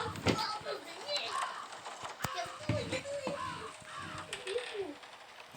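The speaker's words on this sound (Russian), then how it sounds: "А, там была ворона." A crow caws a few times at a distance under children's chatter and background noise.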